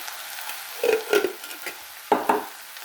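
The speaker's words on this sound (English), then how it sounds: "I'm just going to stir this up a little bit." Taco soup with pinto beans being stirred in a pot, giving a few soft scraping, wet sloshing strokes against a low background hiss, with no talking.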